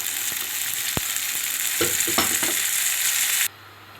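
Tomatoes go into a pan of browned onions for pasta sauce, setting off a loud, continuous close-up sizzle and crackle with a few stirring clacks before the frying suddenly drops away.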